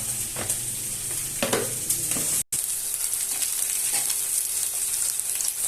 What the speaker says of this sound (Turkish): Şöyle patlıcanlarımı kızartacağım.